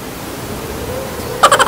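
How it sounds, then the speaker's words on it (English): Wind buffets a microphone outdoors with a steady, rough rushing roar, ending in a few short, louder gusty thumps. "This wind is so annoying. I think it's louder than my voice."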